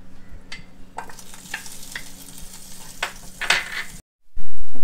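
Butter melting in a hot pan for a Bakery Style chicken bread recipe, a soft continuous sizzle and crackle with a few light scrapes, close and moderately loud, cut off by a brief silence near the end.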